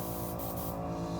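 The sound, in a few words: airbrush spraying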